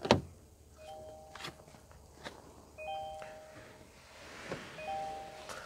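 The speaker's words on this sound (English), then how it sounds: "That noise is simply telling me that I've left the key in the ignition." Inside a Kia Sportage, a soft electronic chime sounds a few short, separated tones with the key left in the ignition, faint and close, amid light handling noises and a thump at the start.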